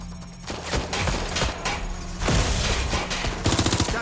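Rapid, loud bursts of automatic gunfire rattle in close succession during a firefight in the game Watch Dogs Legion, dense and continuous with sharp individual shots toward the end.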